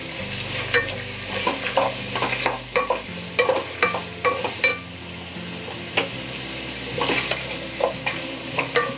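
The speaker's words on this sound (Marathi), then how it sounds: "कांदा आपला व्यवस्थित चांगला एकदम सोनेरी रंगाचा होईपर्यंत आपल्याला परतून घ्यायचा आहे." Chopped onion sautéing over high heat in a pan, a steady sizzle broken by repeated sharp scrapes and taps of a spoon stirring, close and fairly loud with no voices.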